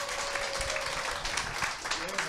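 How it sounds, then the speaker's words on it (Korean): An audience at a Korean one-day business seminar applauds to welcome a speaker to the stage, a dense, continuous round of clapping with a faint tone and murmur underneath. "큰 박수로 모시겠습니다"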